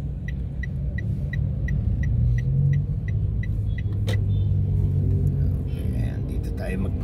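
Low rumble of cars idling and creeping forward in a sudden traffic jam, a steady engine drone with faint periodic clicking like a turn signal and quiet voices in the background.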